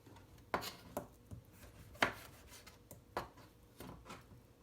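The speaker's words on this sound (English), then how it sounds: "You can cut them into smaller pieces as well, like so." A knife chops vegetable wedges into smaller pieces on a cutting board, giving about six distinct, close knocks at an uneven pace with quiet gaps between them.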